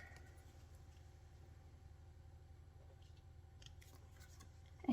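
Scissors trim the paper overhang on a handmade spring folio with quiet, faint snips over a low background hum, and no one speaks.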